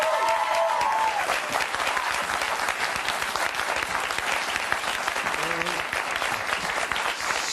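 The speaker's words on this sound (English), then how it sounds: "So, why are you applauding him?" A studio audience applauds steadily for the founder and CEO of Whole Foods at a televised healthcare discussion, a dense, continuous clapping with a few voices mixed in.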